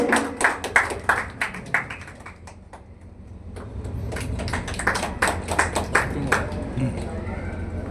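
Audience applause from residents at a community health talk in a residential neighbourhood: scattered claps at first, then a denser, sustained burst of clapping with voices mixed in.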